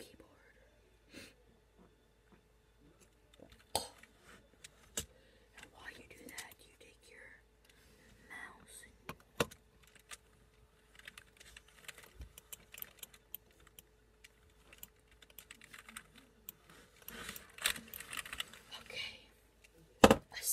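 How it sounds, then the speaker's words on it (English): Computer keyboard keys click in scattered, irregular bursts, soft and close, mixed with occasional taps and handling noises while a person whispers throughout, the typing growing denser near the end. "It's also a good way to test your keyboard."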